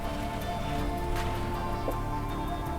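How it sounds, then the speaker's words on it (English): Steady rain falling outdoors, a continuous even hiss with faint scattered drops, fairly quiet and unbroken, with no voices. "I hope that rain's not coming through too loud on the microphone."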